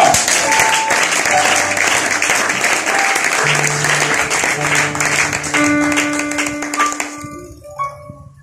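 A church congregation applauds in sustained, dense clapping that fills the room, with sustained keyboard tones underneath, tapering off toward the end.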